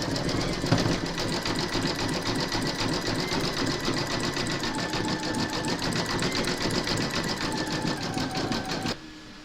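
An embroidery machine satin-stitches the arm of a freestanding-lace snowflake in silver thread, a steady, rapid needle chatter running loud and unbroken before stopping abruptly near the end.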